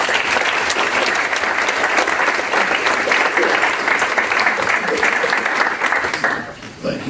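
A dense, steady ovation from an audience welcoming a judge to the podium at a scholarship award ceremony. The clapping fills the room and fades slightly at the end.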